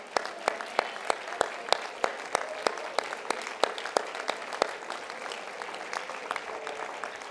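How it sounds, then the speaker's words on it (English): Congregation applauding in a church service, a steady wash of many hands clapping with sharp individual claps standing out, fairly close and sustained without speech. "Give that clap to the Lord,"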